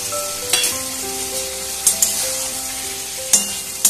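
Soybean kofta curry masala with tomato ketchup being stir-fried in a pan, a steady close sizzle with spatula scrapes and a few sharp clinks against the pan, no talking.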